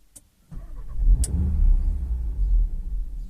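A 2020 Audi RS3 cranks after a brief click, then settles into a low, steady rumbling idle for a few seconds, close by, while an aftermarket immobiliser stands ready to cut the engine.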